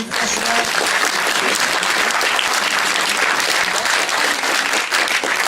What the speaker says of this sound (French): On peut déjà applaudir les comédiens de la scène.